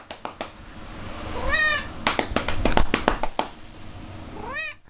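A cat meows loudly and close several times, drawn-out rising and falling cries separated by short clicks and thumps.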